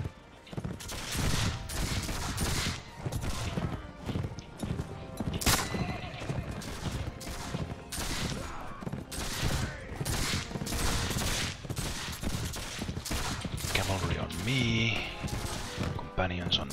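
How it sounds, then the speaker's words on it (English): Musket volleys and scattered gunfire crackle densely through a cavalry charge in Mount & Blade With Fire & Sword, with horses neighing and hooves pounding in a loud, continuous battle din. "Everyone fire at will. Charge companions,"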